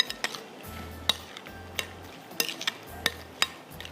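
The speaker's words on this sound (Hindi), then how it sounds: "और इसको करते हैं मिक्स" A spoon stirs chopped salsa in a bowl, making a string of light clinks and taps against the dish at an irregular pace over a faint low hum, nearby and fairly quiet.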